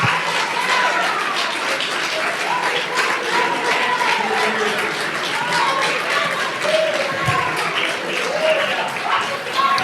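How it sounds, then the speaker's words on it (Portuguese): Applause from a church congregation at a night service, a dense continuous crowd clapping that fills the whole stretch, with voices calling out beneath it. "dê uma linda salva de palmas para Jesus nessa noite"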